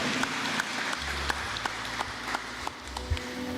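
A church congregation at a Baptist worship service in Jundiaí, Brazil, applauds in a moderate round of clapping with scattered sharp claps and low room rumble; the applause is fairly soft and brief.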